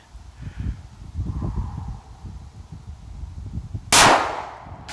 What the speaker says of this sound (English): now I'm gonna go ahead and shoot at these little steel plates right here